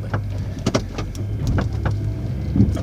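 Snowplow truck driving at speed while clearing a compound, with a steady engine rumble and road noise up close, accompanied by intermittent clunks and rattles throughout.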